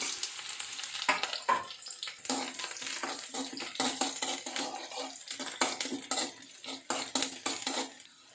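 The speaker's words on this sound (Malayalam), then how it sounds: "എണ്ണ നന്നായി ചൂടായിട്ടുണ്ട്. ഒരു 2-3 ചുവന്നുള്ളി കീറിതിട്ട് കൊടുക്കാം." A few split shallots fry in hot oil for a Kerala palak curry. Close crackling sizzle comes with repeated spoon stirring and clinks against the pan, and no one speaks.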